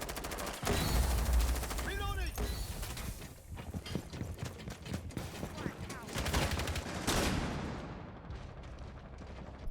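Rainbow Six Siege gameplay fills with loud rapid gunfire, fusillades of automatic shots crackling close and continuous, with sharp impacts and a dense battle din throughout.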